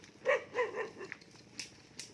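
A dog barks at household people in a rural village, with a few quick barks that are faint and somewhat distant against quiet surroundings.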